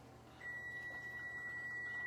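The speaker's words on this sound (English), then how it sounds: "the oven is beeping" An oven timer gives a steady high electronic beep that starts after a brief pause and holds, fairly faint, over low kitchen room noise.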